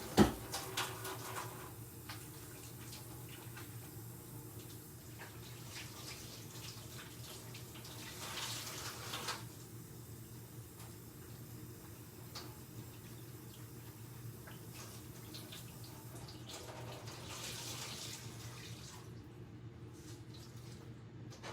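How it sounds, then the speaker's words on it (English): Running tap water pouring steadily over a rag as cleaning paste is rinsed out, with intermittent splashing surges from squeezing and agitating the cloth, close and continuous. "I'm going to rinse this clean and paste out of my rag"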